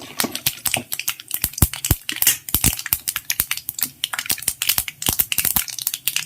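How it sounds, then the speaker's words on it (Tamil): Mustard seeds crackle and pop in hot oil while potato masala for puri is being cooked, giving a dense, steady stream of sharp, close snaps with no voice over it. "இப்போ பாருங்கள் நான் வந்து க கடுகு போடுறேன் கடுகு பொரிய ஆரம்பிக்குது"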